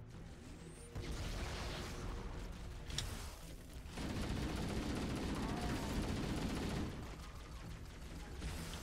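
Sustained bursts of assault rifle fire in Halo CE co-op play, rapid continuous rattling in long stretches with brief pauses between them, under occasional talk.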